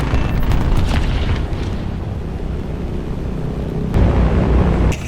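A massive 5000 kg bomb dropped from a PE-8 bomber in War Thunder, a loud rumbling blast roar that holds as a heavy low boom, swelling again near the end.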